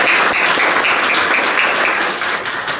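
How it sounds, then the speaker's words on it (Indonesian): Dense, steady audience applause for Pak Riza at a student regiment commander inauguration ceremony in NTT province, loud and close throughout and tapering slightly at the end. "Tepuk tangan dong buat Pak Riza."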